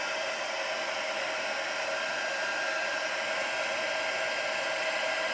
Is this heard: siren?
no